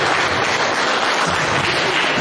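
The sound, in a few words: audience clapping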